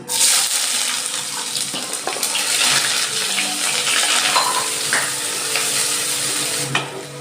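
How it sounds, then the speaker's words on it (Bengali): Chopped onion hits hot oil already seasoned with a few white cumin seeds, giving a loud, steady sizzle that runs the whole time with brief stirring scrapes and no voices. "আমার তেল গরম হয়ে গেছে আমি ফোড়ঙে অল্প কটা সাদা জিরে দিচ্ছি এবার দিচ্ছি আমি পেঁয়াজ কুচি"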